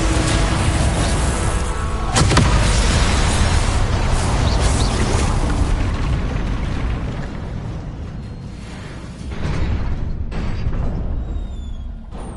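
Confringo fire spell blast in Hogwarts Legacy, a loud rumbling explosion with a sharp crack early on, then a sustained roaring wash that dips and swells again.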